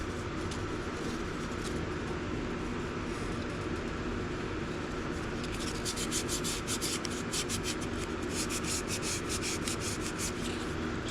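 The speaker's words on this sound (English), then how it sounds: "Putting a little bit of pressure on that to get the sandpaper inside of the edges there." Sandpaper rubs steadily against a hand-carved wooden wand in close, continuous scraping, growing into quick rhythmic back-and-forth strokes partway through.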